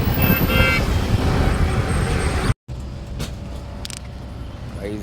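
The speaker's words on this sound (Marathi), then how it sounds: "आता गाडी चालवतो." A car drives along a road left wet and somewhat damaged by rain the night before, giving a steady, loud rush of engine and tyre noise that cuts out briefly midway, then returns as quieter road noise.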